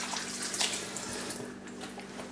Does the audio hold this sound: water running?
yes